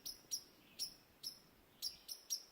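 Birds call near their nest in an open forest blowdown, giving a series of seven short, sharp high chirps at irregular intervals, close but fairly quiet against a still background.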